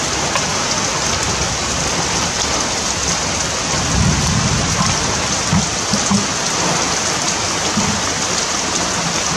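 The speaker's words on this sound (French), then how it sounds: "So it's pouring rain" Heavy rain pours steadily in Quebec in June 2023, a dense unbroken roar with a few deeper rumbles and no voices.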